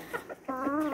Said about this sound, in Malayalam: നമ്മളിങ്ങനെ കോഴികളെയൊക്കെ വളർത്തുമ്പോൾ അവരുടെ ഇങ്ങനെ ഇതൊക്കെ കാണുമ്പോഴും ശബ്ദങ്ങളൊക്കെ കേൾക്കുമ്പോഴൊക്കെ